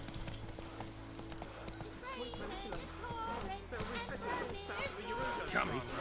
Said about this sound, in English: Alright, let's go, Roach